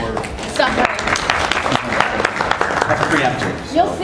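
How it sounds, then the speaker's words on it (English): Audience at a base-building talk gives a round of applause, many hands clapping in a busy, uneven patter with voices and talk running through it. "And let's give Alex a round of applause for Suffering."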